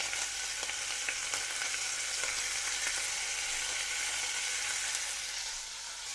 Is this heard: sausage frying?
yes